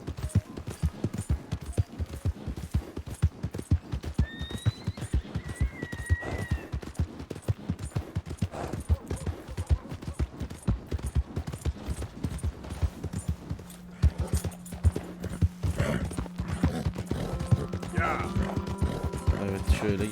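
Hooves of a stolen horse galloping in Red Dead Redemption 2, a rapid, steady clip-clop running throughout, with a brief whinny and game sounds and music layered over it.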